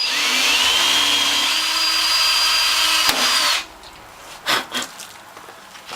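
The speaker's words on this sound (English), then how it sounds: "next we're going to take an 832 drill and drill through" A power drill with an 8-32 bit whines steadily as it bores through a metal base plate for a Norwalk juicer for several seconds, then stops, followed by a few faint knocks and rustles.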